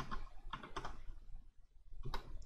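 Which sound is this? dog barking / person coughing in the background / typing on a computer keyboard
typing on a computer keyboard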